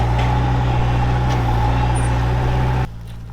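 A Jeep engine labours steadily in four-wheel drive on a rocky off-road climb, with a loud, constant low rumble close by that drops off abruptly near the end.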